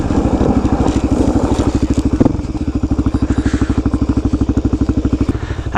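A motorcycle engine idles close by, its loud steady chugging pulses running continuously throughout, with a brief clatter partway through.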